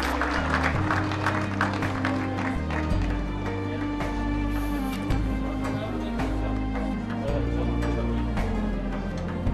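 Hall audience applauding steadily for several seconds, a dense wash of claps layered over background music with a low bass pulse, and a voice briefly heard beneath it.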